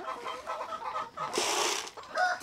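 Rhode Island Red chickens clucking at feeding time on a small farm, a close cluster of busy clucks and a few louder calls rising over the flock, with no talk.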